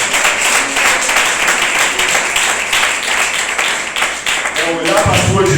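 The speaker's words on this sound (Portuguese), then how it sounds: "Bate palmas para Deus." A church congregation claps hands during a sermon, a dense steady patter of many hands with speech mixed in, and a low voice enters near the end.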